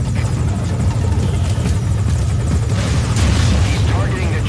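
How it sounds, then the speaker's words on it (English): A helicopter in Metal Gear Solid Ground Zeroes thrums loudly and continuously with heavy rotor rumble, close by, while voices speak over it. "He's targeting the chopper"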